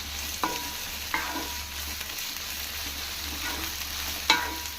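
Okra frying in a pan with onion, green chili and curry leaves, a steady close sizzle broken by a few sharp scrapes and clinks of a spoon stirring.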